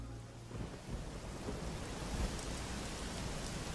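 Steady rain hisses continuously with a low rumble of thunder rolling underneath on the Garry's Mod map GM Construct Rainy, moderately quiet and even throughout, with no voices.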